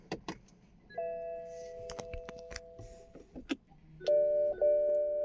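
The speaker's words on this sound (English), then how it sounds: "So I'm gonna turn on the ignition." Ignition of a 2016 BMW X1 switched on: a few soft clicks, then sustained electronic warning chimes that start, stop and sound again, heard up close inside the car with no talking.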